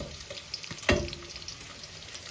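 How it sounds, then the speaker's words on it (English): Beef mince fries in olive oil in a pan, giving a low steady sizzle with one sharp scrape or stir partway through and no talking. "we are frying our beef mince here in olive oil"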